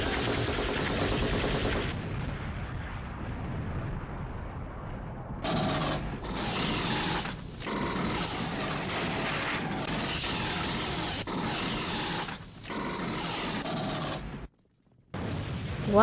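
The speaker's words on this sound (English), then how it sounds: "Why did you have to shoot Clark Gable?" Blank-loaded guns fire at an actor on a film set, a dense, loud run of rapid gunshots and mechanical clatter going on almost without a break, with brief dropouts near the end.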